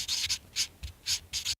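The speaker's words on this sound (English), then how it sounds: "Here's a sound of a marker writing." Short squeaky strokes of a felt-tip marker on a surface, about five quick bursts in a row, close and fairly quiet, then abrupt silence.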